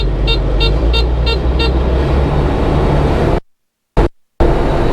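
Kubota DC120X combine harvester engine revving loud and close: a steady roar with a rhythmic tooting whine on top, broken by two short drop-outs near the end before it resumes.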